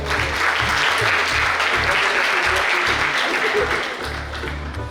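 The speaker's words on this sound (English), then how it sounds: "A big round of applause for Sarita." Sustained audience applause at an indoor event, a dense wash of clapping that stays loud, then thins and fades near the end while a steady low hum runs underneath.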